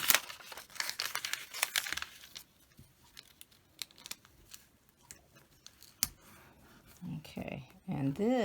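Tape is pulled and pressed onto a torn sheet of paper, making crinkly tearing and sticky ripping noises up close, with a person talking near the end.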